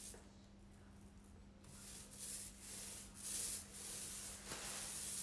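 A paintbrush spreads paint across a piece of furniture in a series of soft, rhythmic rubbing strokes, faint and close, each swish rising and falling with no talking.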